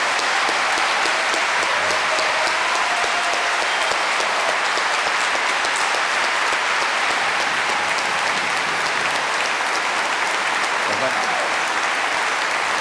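Sustained applause from a large debate audience, steady and dense clapping that fills the whole stretch without letting up.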